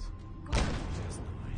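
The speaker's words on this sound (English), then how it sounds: "They set off their own explosion." A single explosion goes off in the Fallout 4 video game, a sudden heavy thud with a broad rumbling burst that decays over about a second beneath low background noise.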